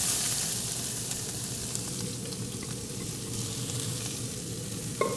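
Holy trinity vegetables sizzle steadily in a skillet with a tablespoon each of butter and chili-infused oil, a loud, continuous frying hiss with light stirring clicks and one sharp clatter near the end.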